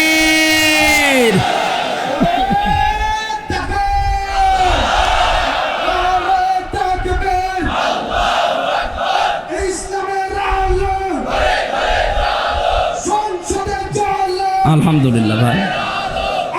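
A large crowd at an Islamic waz gathering roars back in unison after a takbir call, loud repeated chanted shouts rising and falling in waves, close and powerful, with a preacher's voice amid the chanting.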